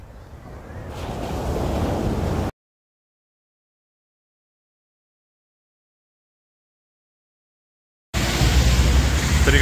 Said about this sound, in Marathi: हा बीच गोवासारखाच आहे.